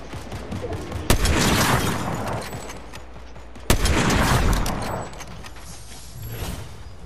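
Video game gunfire: two loud sudden bursts of dense, sustained shooting and explosions that roll on for seconds after each onset, with a constant background rumble throughout.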